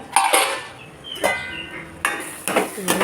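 A few sharp metallic clanks and rattles as the lid of a cooking pot is lifted off during curry preparation, close and loud, separated by short gaps; no one speaking.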